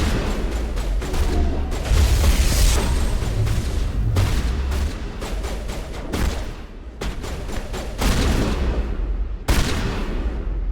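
Shotgun blasts in the Mass Effect video game, a series of loud booming shots spaced a second or two apart, each with a sharp onset and decaying tail over a rumbling combat background.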